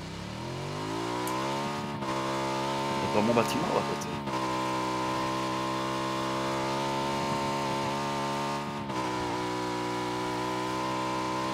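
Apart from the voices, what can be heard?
motorcycle engine revving in a video game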